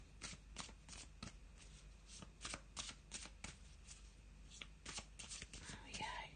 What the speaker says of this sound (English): I'm just going to have a little shuffle of the Faulkner deck